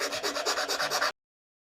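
A file rasps across a wooden guitar backplate in about nine quick, even back-and-forth strokes, close and crisp, stopping abruptly after a second.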